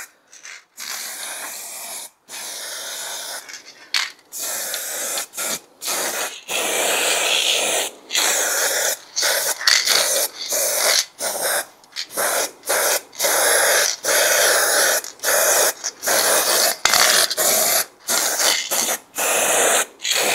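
A spray can coats a Toyota Corolla brake drum in satin black, repeated short bursts of hissing spray separated by brief silences over a long stretch, close and fairly loud.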